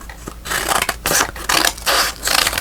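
Scissors snip through paper from an altered board book in a series of rapid, close, crisp cuts, with brief pauses between strokes and no speech.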